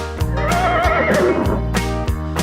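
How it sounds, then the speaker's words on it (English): A horse on a farm neighs once, a loud, close whinny rising and trembling over about a second, set against a steady musical background. "the horses go as they gallop around the farm"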